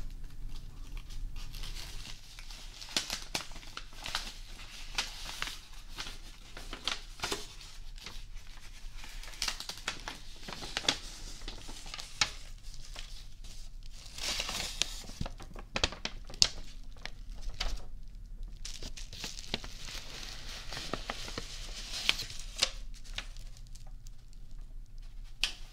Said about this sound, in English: Thought that the paper and bubble wrap might make some nice ASMR sounds.